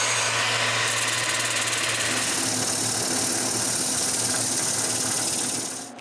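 A lathe spinning a turned wooden cup during final sanding, giving a steady loud mechanical whir and buzzing hum that runs unbroken before tapering off at the end.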